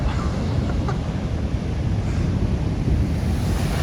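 Ocean surf rolls and crashes continuously at Clovelly Beach in Australia, a loud steady roar of breaking waves mixed with gusting wind noise across the microphone, with no voices.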